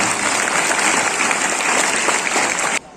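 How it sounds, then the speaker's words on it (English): A school audience at an oath-taking ceremony bursts into loud, dense applause that holds steady, then cuts off abruptly near the end. "जोर से तालियां हो जाए।"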